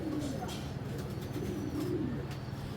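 A large female Giribaz pigeon coos in soft, low, rolling phrases, repeated several times at close range under a voice.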